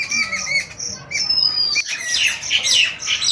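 A crow in a cartoon forest story gives a run of loud, harsh squawks and caws mixed with chirpy bird calls, close and alone, repeating in quick bursts over about three seconds.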